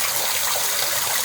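Steady, close rush of water spraying from a clawfoot tub shower kit's shower head, a continuous hiss with no voices.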